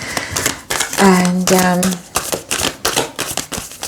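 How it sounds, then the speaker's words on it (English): Tarot cards shuffled by hand in quick riffling bursts of papery flicks, with a person talking over part of it. "We'll shuffle them back in"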